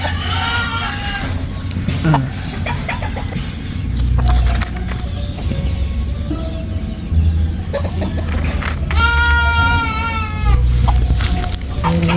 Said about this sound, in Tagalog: Iyak na kambing.